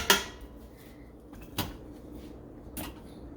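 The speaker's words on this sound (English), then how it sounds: "Going to give this a nice stir" A spoon stirs beef short ribs in broth in a pot, giving three sharp metallic clanks against the pot spaced about a second apart, with soft scraping between them.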